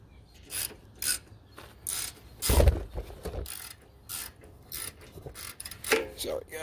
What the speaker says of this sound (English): I'm gonna start off with using the ratchet and see